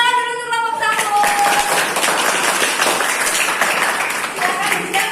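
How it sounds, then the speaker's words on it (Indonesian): A classroom audience claps for a dance group during a teaching practice session, with broadband applause filling most of the stretch after a brief opening tone and persisting steadily to the end. "Tepuk tangan dulu untuk kelompok Sambur"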